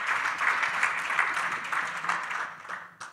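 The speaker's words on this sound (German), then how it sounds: "Trotzdem nochmal ein herzlicher Applaus von der Forstlichen Versuchsanstalt Freiburg" Steady, fairly quiet applause from an audience at a forestry and wildlife panel discussion, an even wash of many hands clapping without a break.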